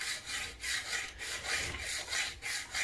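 A hand saw rasps through wood in a steady back-and-forth rhythm, about eight even, slow, controlled strokes, close and clear with no talking.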